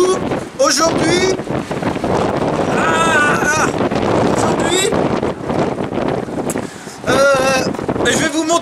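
Strong storm wind buffets the microphone in a disused truck parking lot beside an expressway, loud gusty roaring throughout, with someone speaking breathlessly over it.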